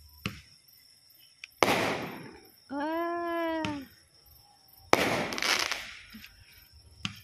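Fireworks burst and crackle in a few sharp volleys, with a rising whistling whine between them; moderately near.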